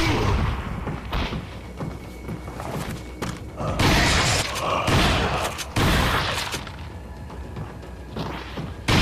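Grenade explosions in Resident Evil 4 VR: heavy booming blasts with crashing debris, several loud bursts over a rumbling, chaotic combat backdrop, with no voices heard.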